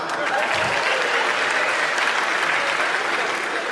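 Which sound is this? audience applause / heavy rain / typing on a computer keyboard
audience applause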